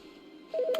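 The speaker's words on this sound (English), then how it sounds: "Another phone call." A phone in The Stanley Parable game starts ringing with a short burst of electronic tones, rising suddenly after half a second of quiet hum.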